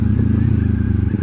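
400cc motorcycle with an SC Project exhaust: a loud, steady, throbbing idle with a low pulsing rumble, close and continuous throughout.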